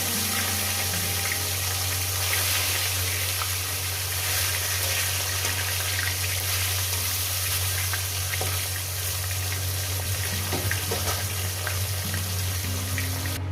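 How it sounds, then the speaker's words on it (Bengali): Pieces of Lailontika fish fry in oil in a wok, a steady, dense sizzling hiss that holds evenly and close throughout with occasional faint pops. "তেল দিয়ে দেবো আমি পরিমাণ মতন মাছগুলোকে এক এক করে ভেজে নেবো"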